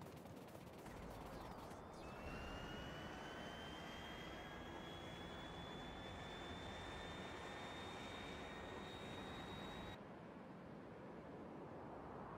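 Plane engine in the video game Factorio, a continuous jet roar with a high whine that rises and sustains for several seconds before cutting off abruptly, heard alone.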